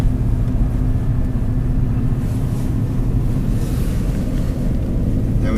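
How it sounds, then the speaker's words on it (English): A vehicle crawling down an icy hill in first gear, a low steady engine drone and road rumble heard from inside, with constant wind noise and no talking. "put your vehicle into first gear so it will crawl down by itself"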